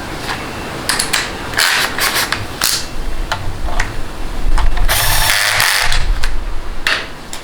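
A ratchet with a 10mm socket tightens a bolt during 6L80 transmission assembly, making loud, close bursts of clicking strokes separated by brief gaps and rustling handling noise.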